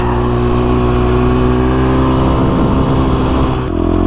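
A KTM 350SX-F dirt bike set up for desert racing revs hard and high, a loud, close, sustained engine whine that climbs steadily before dipping briefly near the end.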